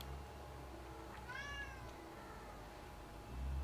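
A pet house cat lets out a single faint, rising meow at a distance, set against a low steady background hum.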